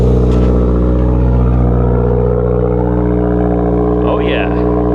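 A 2015 Chevy Duramax diesel with an aftermarket exhaust idles in a deep, steady rumble that stays loud and close, with a voice talking over it.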